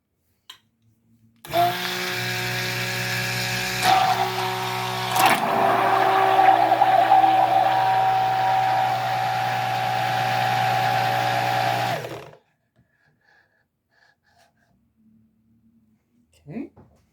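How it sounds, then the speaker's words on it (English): A stick blender whirs loudly and steadily through hot process soap batter for about ten seconds, a buzzing motor drone like a weed eater, then cuts off, leaving near silence. "Gonna give it a buzz with my stick blender. Sounds like a weed eater."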